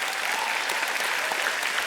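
Audience at a climate award event applauding a professor, a dense, steady burst of many hands clapping with no gaps, loud and sustained throughout.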